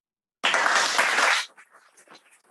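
On a podcast, a short, loud burst of clapping starts abruptly after silence, lasts about a second, then drops away to faint scattered sounds.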